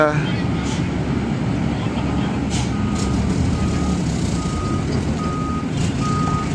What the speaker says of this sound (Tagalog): lalabas na po yung truck dito na malaki